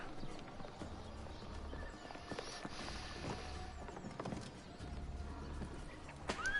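A horse gallops in the game Assassin's Creed Revelations, with a steady, fairly soft drumming of hooves over a background hum, plus a brief whinny-like squeal near the end.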